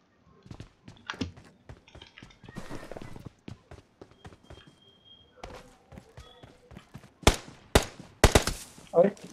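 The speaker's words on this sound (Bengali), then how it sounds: "আমার এই সাইডে ফায়ার হচ্ছে" Gunfire in the video game PUBG, with scattered sharp single shots and short bursts, sparse at first and then louder, closer and more rapid toward the end, with a voice speaking now and then.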